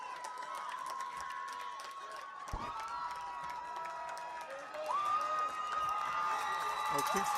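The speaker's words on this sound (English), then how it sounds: "getting a big standing ovation by the crowd" Crowd at a junior peewee youth football Super Bowl giving a standing ovation, a steady wash of cheering and applause throughout, swelling louder in the last few seconds, with an announcer talking over it.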